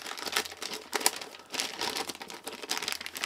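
Brown packing tape being peeled off a new packet: a run of dry crinkling, crackling rips in several bursts, close and fairly loud, with no talking.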